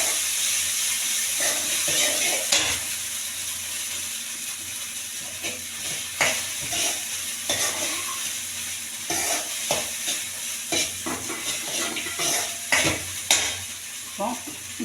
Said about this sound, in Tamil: இப்போ நம்ம எடுத்து வச்சிருக்கிற அவலையும் சேர்த்து இதோட அப்படியே டோஸ்ட் பண்ணுங்க.